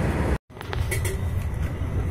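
Loud rumbling of a moving train, a steady low roar with a brief dropout early on, then rattling and clatter continuing.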